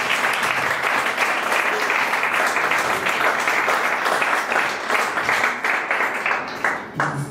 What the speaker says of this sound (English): So give a round of applause to the main man for that